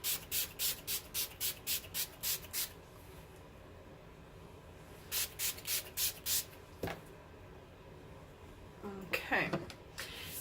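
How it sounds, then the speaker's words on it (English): A pump bottle of Wet n Wild rose setting spray mists in two quick bursts of about nine rapid puffs each, close by, with a soft shuffle and brief vocal sound afterward. "I'm gonna use my Wet n Wild Rose spray."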